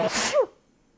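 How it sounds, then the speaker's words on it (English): A single sharp sneeze, close and brief, followed by quiet. "Another sneeze."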